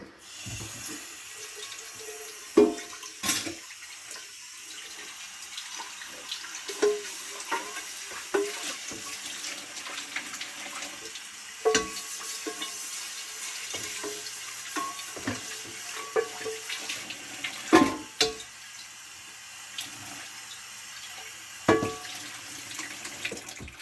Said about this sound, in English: Then I'm going to rinse out this pan.